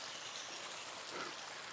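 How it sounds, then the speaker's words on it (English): A small waterfall in the mountains splashes in a steady, soft rush of flowing water, faint and continuous from start to finish. "Nice, beautiful little waterfall right here."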